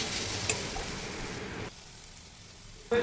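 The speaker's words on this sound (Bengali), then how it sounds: "এবার এই মশলাগুলো আচ্ছা ভালো করে দিয়ে ভেজে নিতে হবে" Ground coriander, turmeric, Kashmiri red chili and cumin frying in a pan, a close, steady hiss with stirring scrapes that drops away at 1.7 seconds, then returns briefly near the end; no talking.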